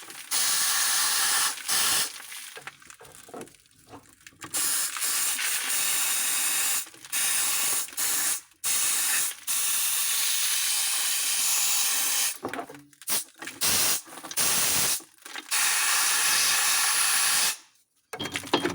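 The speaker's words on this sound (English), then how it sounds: "maybe put some pressurized air" Close pressurized air hisses in long and short bursts against a steel control arm bolt, with brief gaps and a few mechanical clicks between blasts.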